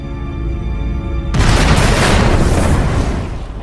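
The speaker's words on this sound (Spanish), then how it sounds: "Cuando una estrella explota" A supernova star explosion sound effect opens with a low tonal hum, then bursts into a loud, sustained rumbling roar that swells and slowly fades away.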